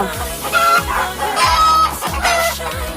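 Farm chickens kept for laying eggs cluck and call close by, with repeated rhythmic clucks and occasional longer crowing-like notes overlapping, loud and without speech.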